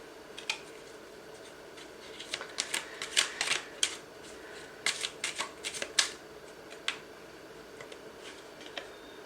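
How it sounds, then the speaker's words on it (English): Tarot cards shuffled and drawn from a small mini deck, giving a run of soft, crisp papery riffles and flicks in quick irregular bursts, close and fairly quiet, with no talking. "I'm going to pull another card out from my mini deck"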